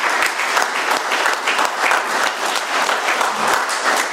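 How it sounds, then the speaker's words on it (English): Steady applause from an Alcoholics Anonymous meeting audience in Doylestown, PA, honoring the night's speaker, with dense, even clapping that holds at full strength for about four seconds with no voices over it. "Let's give Sydney another round of applause."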